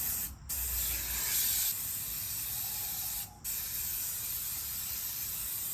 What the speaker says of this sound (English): take some black spray paint or whatever color your target is